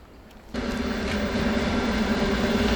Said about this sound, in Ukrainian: Поїзд зараз буде їхати.